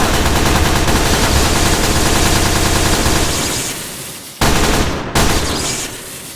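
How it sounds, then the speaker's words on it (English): Rapid automatic SMG fire in the TF2 Stuff mod for Minecraft 1.12.2, a loud continuous rattling burst lasting several seconds, then tapering off with two brief short bursts near the end. "And now, secondary, which is an SMG."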